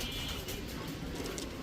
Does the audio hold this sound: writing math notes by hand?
no